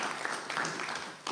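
Applause at a municipal council meeting in Mozac greeting the newly elected list, a short burst of steady broadband clapping filling the room at moderate level.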